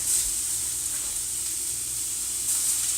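Matzo brei sizzling in a frying pan, a steady bright hiss of frying that holds evenly throughout, close and moderately quiet with no talk.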